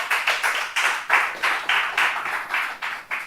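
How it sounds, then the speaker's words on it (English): A workshop audience applauds a presenter at a post-graduate research session, a close burst of clapping that swells and pulses in uneven waves for a few seconds, with no voices over it. "Let's give him a round of applause."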